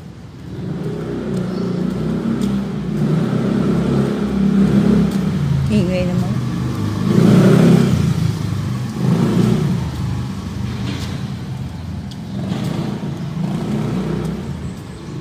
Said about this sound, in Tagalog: Eto ang underground. Dito pinapark ang lahat ng mga sasakyan.